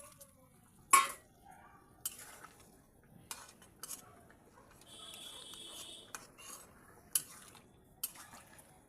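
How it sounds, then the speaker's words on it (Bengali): Fish pieces dropped into a simmering cauliflower and potato curry in a pot, heard as a series of faint, separate clinks and scrapes of a utensil against the pot, spaced about a second apart in a quiet kitchen. "আলু গলে গেছে, এবার মাছগুলো সব দিয়ে দিলাম।"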